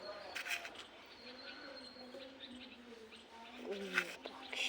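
Birds chirp and pigeons coo softly in the background, with scattered short calls and low cooing phrases that stay faint and distant while a person talks over them.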